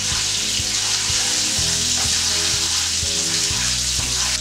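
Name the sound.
butter bubbling in melted sugar caramel for French toast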